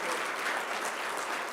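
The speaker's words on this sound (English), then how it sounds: "we have a huge round of applause for everybody who's in this auditorium" Applause from an audience filling a university convocation auditorium, a steady dense wash of clapping carrying on evenly throughout.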